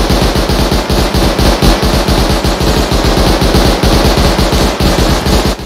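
Loud, sustained automatic gunfire in Rust, a rapid, even stream of shots at close range that runs the whole time with no talk.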